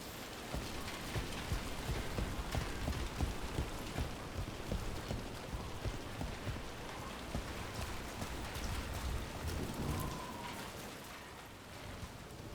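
Steady, dense rain pours down for the whole stretch in the video game Dragon Age: The Veilguard, a close hissing patter with heavier drops spattering across it.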